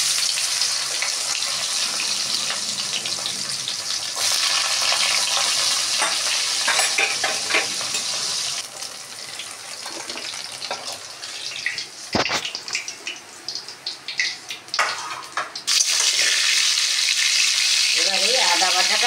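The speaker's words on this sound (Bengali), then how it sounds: "ডাঁটাটা ভেজে নিলাম।" Drumstick stalks for shukto frying in a pan with steady, loud sizzling and occasional stirring clatter; the hiss dips briefly partway through, then resumes at full strength.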